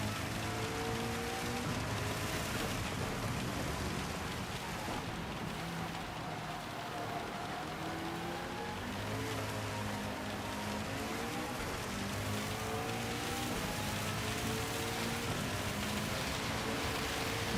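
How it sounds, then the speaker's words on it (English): Steady rain pours down during a wet race in Gran Turismo 7, a dense, continuous hiss with no pauses, joined by low engine tones rising and falling through the whole stretch. "Okay, the rain is really coming down now."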